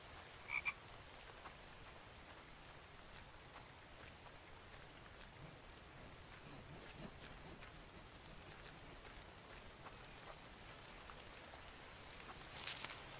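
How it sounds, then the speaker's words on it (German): Frogs croak in the video game The Infected, a faint chorus set against steady rain on surfaces, with scattered raindrops and no talking. "Können wir uns eigentlich von Fröschen ernähren?"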